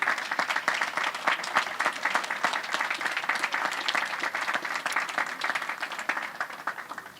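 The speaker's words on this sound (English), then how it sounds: "ask them to stand so that we can all clap for them" An audience at a memorial cross country event in Lobo Village, Eldoret, applauds the parents of athlete Agnes Tirop, with steady, dense clapping that holds for several seconds before tapering off near the end.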